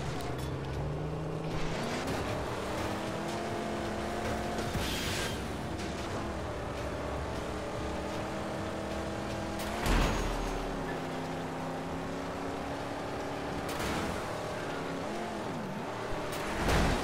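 Car engine in the Mad Max video game, a loud continuous rumbling drone with rising and falling revs as the vehicle drives, gear shifts breaking the pitch every few seconds.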